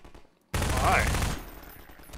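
A sudden burst of close gunfire in Half-Life 2, a loud dense rattle of shots lasting under a second before cutting off to quieter game ambience.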